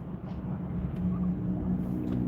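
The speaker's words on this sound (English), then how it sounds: "It's just crazy ass traffic." Steady low engine and road rumble from inside a car moving through heavy Philadelphia rush-hour traffic, a continuous muffled drone with no voices.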